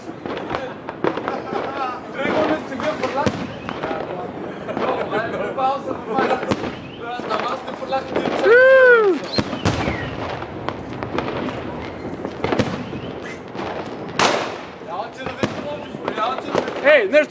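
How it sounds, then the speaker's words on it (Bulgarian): New Year's Eve fireworks over Plovdiv, a rapid series of sharp bangs and crackling bursts, some near and loud, with a whistling rocket rising midway, while people nearby chat over the blasts. "Това е заря."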